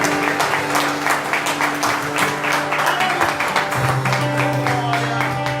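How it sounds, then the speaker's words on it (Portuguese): A church congregation claps together in steady, rhythmic unison, loud and close, with a continuous hum beneath and voices faintly audible through the clapping. "Dê uma salva de palmas a Jesus nessa hora, irmãos"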